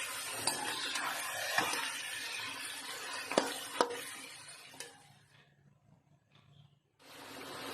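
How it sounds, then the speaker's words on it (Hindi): Meat frying with garlic-ginger paste in a pot for Karachi-style biryani gives a soft, close sizzle broken by a few sharp clinks of a stirring spoon; the sizzle fades out briefly, then comes back strongly at the end. "लहसुन अदरक डालकर भी इसे हम भूनेंगे थोड़ा।"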